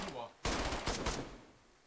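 Video game gunfire breaks out as a loud, rapid burst of close automatic shots lasting under a second, then fades into a short decaying tail.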